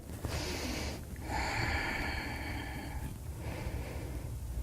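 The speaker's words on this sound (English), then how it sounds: "Listen to the sound of your breathing, especially when your body is working hard here." Heavy, audible breaths during a yoga exercise, drawn in and pushed out in long, rhythmic waves, close to the ear with no talking.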